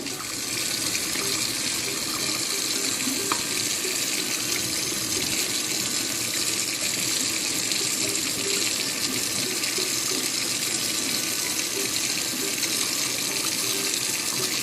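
Tap water runs steadily into a sink while a hard boiled egg is peeled under it, a constant close hiss and gush with no talking.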